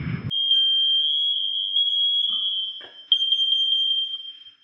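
A home smoke detector sounds a loud, steady high-pitched electronic tone that runs almost unbroken for several seconds, with a brief dip before it resumes, heard alone in a quiet house.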